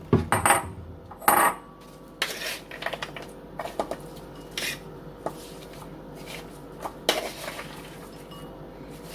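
A bowl being taken out while preparing a spring salad with raspberry vinaigrette, giving a few sharp ceramic clinks and knocks near the start, then softer scattered taps and clatters in a quiet kitchen.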